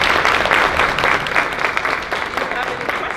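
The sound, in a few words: audience applause after a talk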